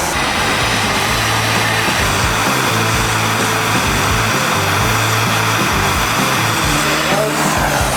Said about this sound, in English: Using one torch to light another torch.